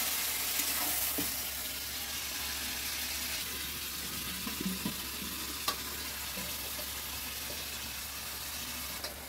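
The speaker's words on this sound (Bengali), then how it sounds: "বন্ধুরা দেখো মাংস কষি সুন্দরভাবে বসাচ্ছে" Meat being sautéed (kosha) in an iron kadai, a steady low sizzle and frying hiss with occasional stirring clinks, fairly quiet and continuous.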